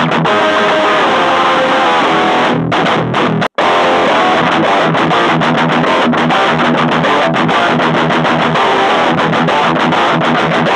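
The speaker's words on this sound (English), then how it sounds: "see how hard this pedal can make this little shitbox amp chug" An electric guitar chugs hard through a Solar CHUG distortion pedal into a small beginner amp, producing a loud, thick, saturated riff with palm-muted rhythmic attacks and one brief dead stop before it resumes.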